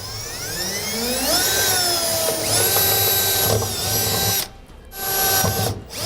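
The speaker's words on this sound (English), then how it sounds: "I'm going to start with a pilot hole" A power drill bores a pilot hole in the metal bed of a 2007 truck for an underbed gooseneck hitch, its motor whining and shifting pitch as it cuts, with brief pauses near the end.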